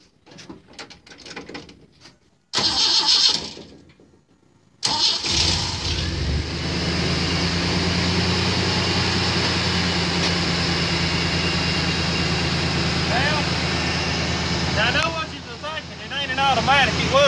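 A 1991 Chevy Silverado truck engine that had sat in a garage for a long time runs loud and steady at close range after a few brief bursts of noise.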